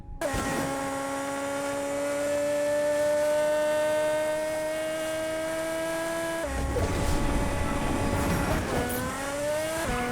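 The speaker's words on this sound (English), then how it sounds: "Engine kinda sounds like an F1 car that snorted sulfur hexafluoride." A Rocket League original car in Fortnite gives a steady, high, buzzy engine whine. It holds one pitch, then drops and shifts to a rougher, louder roar partway through, with a brief rise near the end. No voices.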